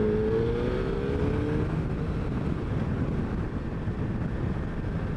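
A Suzuki Hayabusa 1300cc motorcycle with stock exhaust, heard while riding at speed: a steady low engine drone mostly buried under heavy wind rush, with a faint rising whine early on.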